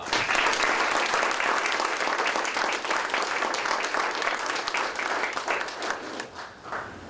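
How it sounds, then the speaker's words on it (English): Steady applause from an audience at a high school library ribbon cutting, dense even clapping filling the space for several seconds before gently thinning out at the end. "Let's give everyone that I've just mentioned a big round of applause."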